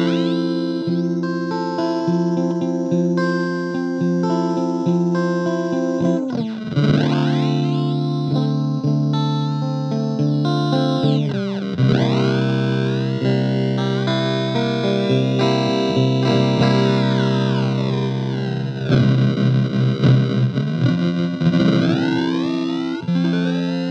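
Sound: Electro-Harmonix Mainframe bit crusher pedal sweep on guitar

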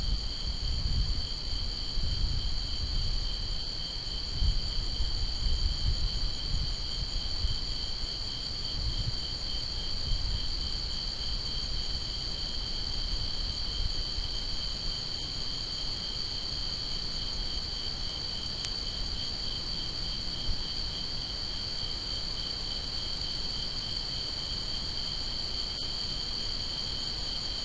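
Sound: tree frogs and insects at night

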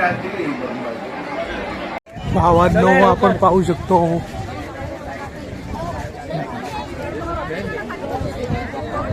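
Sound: crowd chatter at a busy temple

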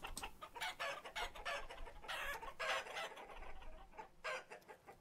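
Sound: chickens clucking, from the video game Vintage Story

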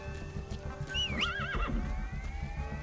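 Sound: horse neighing and hooves clip-clopping in the video game Metal Gear Solid V

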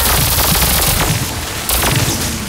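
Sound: enemy heavy weapon firing in the video game Horizon Forbidden West

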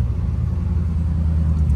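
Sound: Dodge Hellcat car driving and turning

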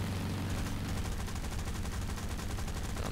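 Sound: aircraft machine gun firing in video game War Thunder

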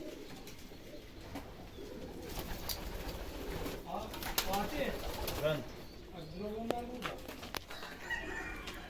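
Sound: pigeons cooing

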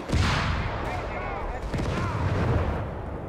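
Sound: gunfire in Company of Heroes 3 video game

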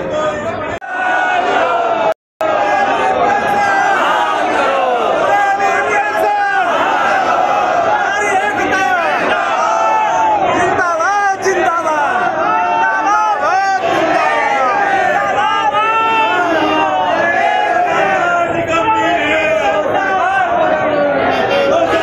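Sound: large crowd of protesting employees shouting at Lucknow rally

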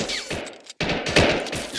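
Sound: covering gunfire in a video game

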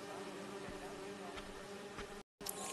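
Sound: bees buzzing in Marvel's Spider-Man 2 video game

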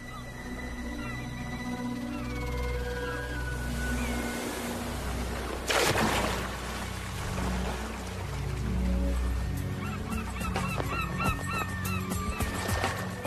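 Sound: greater black-backed gulls calling

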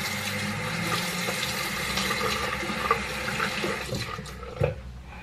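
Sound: tap water running while washing hands

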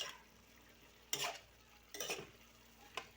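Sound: stirring chicken minudo with carrots and potatoes in pan

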